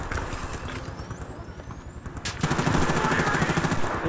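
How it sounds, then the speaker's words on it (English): Heavy machine gun fire in the shooter game Battlefield Bad Company 2, heard as steady rapid bursts that grow louder and denser halfway through over a rumbling battlefield background. "A heavy machine gun in the upper base"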